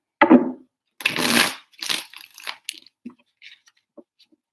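Tarot cards being shuffled up close in several short, papery riffling bursts, followed by a few faint soft taps and card handling sounds.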